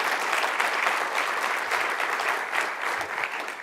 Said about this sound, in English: Will you give him a great big round of applause?